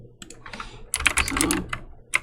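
Quick, light clicks of a password being typed on a computer keyboard, close and fairly quiet, in short bursts with brief pauses and no talking.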